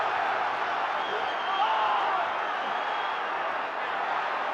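Boxing arena crowd roaring during a heavyweight fight as one boxer is nearly knocked out, a steady broad wash of cheering and shouting from a large audience.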